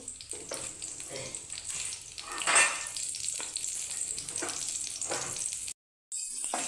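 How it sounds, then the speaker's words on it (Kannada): Crushed garlic fries in hot oil with a continuous close hiss and sizzle, interrupted now and then by soft stirring scrapes and one short silence near the end. "ಎಣ್ಣೆ ಕಾದ ನಂತರ ನಾವು ಜಜ್ಜಿಟ್ಟಂತಹ ಬೆಳ್ಳುಳ್ಳಿ ಐದರಿಂದ ಆರು ಎಸ್ಲಷ್ಟು ಬೆಳ್ಳುಳ್ಳಿಯನ್ನು ಹಾಕಿ"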